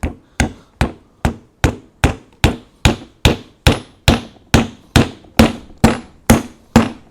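Steady hammer blows drive a nail using the back of a Masaru cordless drill, about fifteen sharp, evenly spaced strikes, loud and close, with no talking.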